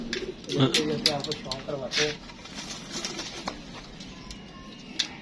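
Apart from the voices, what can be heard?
pigeons cooing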